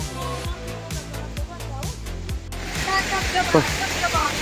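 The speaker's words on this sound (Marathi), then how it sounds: "समोर बघा तुम्हाला एक धबधबा दिसेल" A waterfall and stream near Vaigaon village in the Wai area of Satara: a steady broadband rushing of falling water takes over in the second half, after a stretch of rhythmic beat-driven music.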